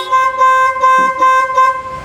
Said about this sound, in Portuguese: Você está feliz, buzina em seu carro aí?